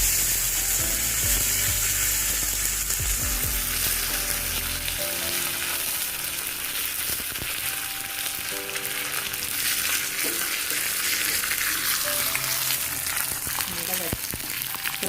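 Mustard, cumin and fenugreek seeds with a dried chilli crackling and sizzling in hot oil for a pepper rasam tempering, a dense continuous fry with scattered pops, close and loud, background music throughout.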